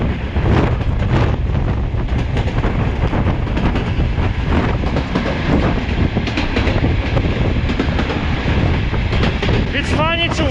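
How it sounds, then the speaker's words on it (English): Train wheels roll over old, worn railway tracks in Kyrgyzstan, a loud continuous rumble with rhythmic clatter and wind buffeting the microphone, and a brief squeal near the end. "Tracks here are pretty old and they create this natural railway sound of wheels."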